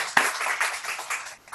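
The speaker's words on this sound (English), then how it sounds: "So let's give a round of applause to Kim." Meeting attendees give a brief round of scattered applause, fairly close and moderately loud, lasting just over a second.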